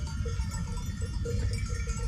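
A mixed flock of sheep and goats in the open, bleating repeatedly from near and far over a steady rustle of movement, with no talk.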